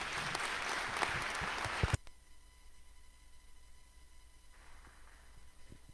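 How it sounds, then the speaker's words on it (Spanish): Audience applause welcoming a school director at a magazine presentation, a dense steady clapping for about two seconds that cuts off abruptly, leaving a quiet room with faint hum afterward. "Lo recibimos con un aplauso"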